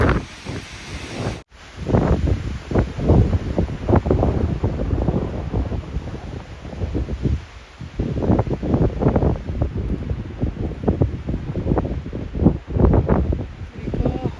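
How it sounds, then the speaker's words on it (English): Strong wind buffets the microphone on a mountain trail near Mount Rose, roaring in loud gusts that rise and fall, with a voice speaking intermittently under the blasts. "I wouldn't be able to handle this wind anyway"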